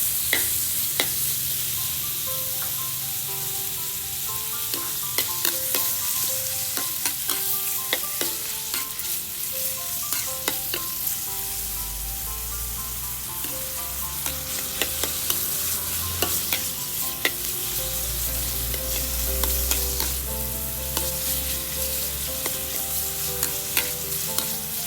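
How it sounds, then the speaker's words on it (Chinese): Pork stir-fried with onion in a hot pan for Thai drunken noodles: a continuous sizzle with frequent metallic clinks and scrapes of the spatula, and a low rumble of the burner in the background, no talk. "我们再炒一下我们的猪肉。"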